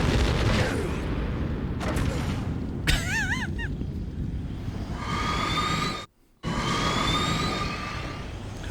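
Explosions boom in Metal Gear Solid around a giant robot, several heavy blasts and rumbles mixed with game music tones and whooshing effects, cutting briefly to silence before the noise resumes.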